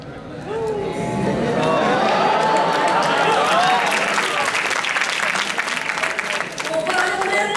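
An audience at a talk by CA Rachana Ranade bursts into loud applause that swells quickly and holds steady for several seconds, with cheering and chatter in the crowd.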